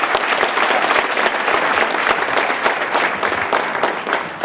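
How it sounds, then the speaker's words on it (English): An audience at a public lecture by motivational speaker Les Brown breaks into sustained, loud applause, a dense wash of clapping hands that continues steadily throughout. "give them a tremendous round of applause"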